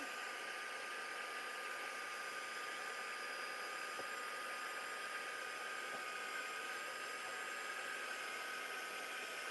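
A hair dryer blows air steadily to dry a mixed media artwork, giving a continuous broadband hiss with a faint whine that holds constant, loud and close, with no speech.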